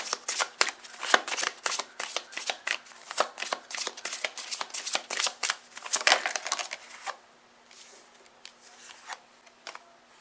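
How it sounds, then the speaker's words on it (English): Deck of oracle cards shuffled by hand in a run of quick, crisp riffling flicks, close and fairly loud, then easing into softer, sparser card rustles near the end. "I'm just shuffling to see if there's another card that comes out"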